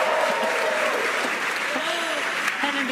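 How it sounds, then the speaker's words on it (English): An excited crowd in Hawthorne cheers and applauds Falcon 9 stage separation during the Crew-10 launch, a loud dense roar of clapping and whoops with a commentator's voice over it. "an extremely excited crowd here in Hawthorne"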